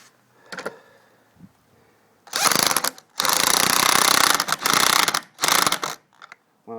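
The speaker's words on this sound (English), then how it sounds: "Now I'm going to use my impact wrench here and try to crank them down a little bit." An impact wrench cranks down anchors on a carport: four loud, rattling hammering bursts of about a second each, close up, separated by short pauses, with faint handling noise before.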